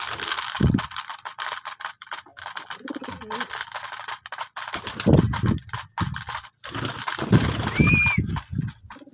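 Pet pigeons at feeding time coo softly near the microphone, with scattered clicks and rustling around them and a brief higher chirp near the end.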